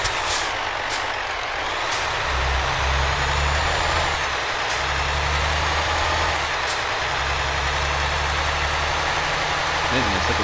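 Heavy truck engine in Euro Truck Simulator 2, a low steady rumble that swells and drops with throttle over about ten seconds, with occasional hiss bursts like air brakes, continuous and fairly loud.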